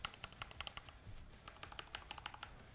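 Typing on a wired-only keyboard with an aluminum case, a steady run of crisp, close key clicks in an uneven rhythm, pausing briefly midway before resuming, alone without talk.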